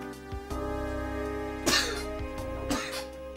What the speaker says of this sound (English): And a sneeze.